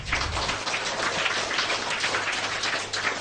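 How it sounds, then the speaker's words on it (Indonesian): Clapping from a group at a Buddhist Abhidhamma lesson, a dense, even patter of hands that carries on steadily and fairly softly. "Tepuk tangan dong."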